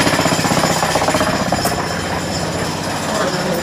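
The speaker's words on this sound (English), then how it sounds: "going to jackhammer this up right now" A jackhammer breaks up a basement concrete floor for a French drain, hammering loudly in rapid, steady bursts that carry through the whole stretch.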